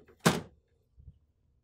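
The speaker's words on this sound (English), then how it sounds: "close the ink cartridge access door." An HP OfficeJet Pro 8720 printer's ink cartridge access door swings shut with a single close plastic thunk, then a faint soft settling knock.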